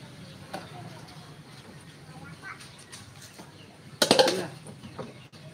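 Saigon chickens cluck softly against a noisy outdoor background, then a short, louder flurry of squawks and flapping breaks out near the end.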